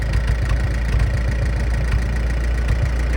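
A Farmall tractor engine runs steadily and loudly, with a rhythmic thudding knock repeating throughout from timing set too far advanced, and no voices.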